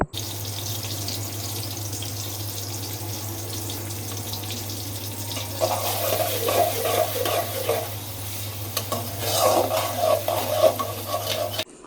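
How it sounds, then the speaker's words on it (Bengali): Chopped onions fry in oil in a pot, a steady close sizzle over a low hum, with bursts of stirring and scraping midway and again near the end. "আমি পেঁয়াজ দিয়ে দিয়েছি"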